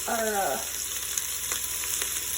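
Chicken pieces sizzling in a pan while stirred with a bamboo spoon, a steady close frying hiss with faint scraping taps, after a brief voice at the start.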